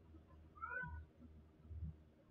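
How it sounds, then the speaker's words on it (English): A house cat gives a short, fairly faint meow in a quiet indoor room, with low background rumble around it. "I have a cat, so. She do be meowing."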